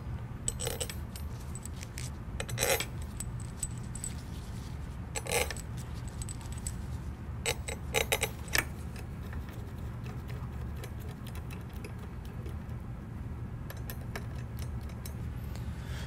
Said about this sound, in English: Now I'm going to finger tighten my bolts that are connecting my carriage plate to my runner blocks